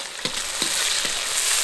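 Pickled chili pieces hit hot oil with fragrant scallion, ginger and garlic, diced pork fat and Sichuan peppercorns in a wok. A loud, steady sizzle is broken by three spatula knocks, close up, with no speech.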